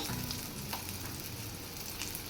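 Green chilli pieces fry in a pan with a steady, even sizzle, fairly faint and continuous, with no talk over it.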